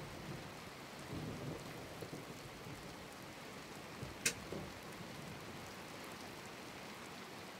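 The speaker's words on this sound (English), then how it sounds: "there is some rain in this session, so watch out for slippery curves" Rain falls in Assetto Corsa Competizione, a soft steady hiss with low thunder rumbles and one sharp crack midway, faint and without talk.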